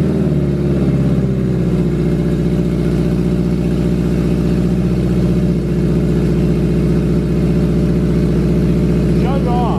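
A turbocharged Honda S2000 engine fires up for the first time and runs loud and steady up close, holding a rough, throbbing idle with mild revving throughout.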